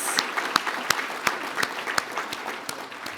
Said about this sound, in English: One more round of applause, please, for our two Pinnacle Award winners.